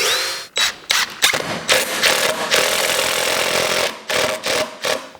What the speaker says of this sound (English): Then I'm just going to pilot drill those.